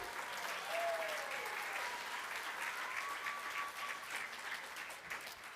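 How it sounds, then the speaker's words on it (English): Steady applause from an audience at a braille competition awards ceremony, honoring the event sponsors; a dense, sustained wash of clapping swelling slightly before tapering. "Let's give them a round of applause."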